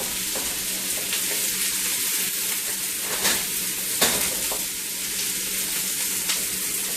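Onions stir-frying in a wok give off a steady, close sizzle that runs the whole time, with spatula scrapes and tossing bursts rising over the hiss now and then, and no one speaking.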